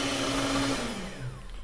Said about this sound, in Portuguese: Aqui eu já bati com a batedeira muito bem.